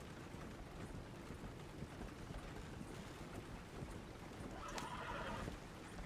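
A horse in the video game Red Dead Redemption 2 whinnies once near the end over a dense bed of hoofbeats and wind, fairly close and steady, with no talk.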